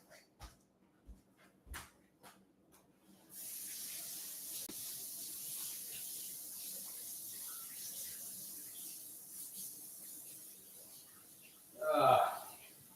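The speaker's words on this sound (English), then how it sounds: "I'm going to wash my hands." A kitchen tap runs steadily while dough is rinsed off hands, a continuous hiss of flowing water with a louder splashing gush near the end, preceded by a few sharp knocks and sparse movement sounds.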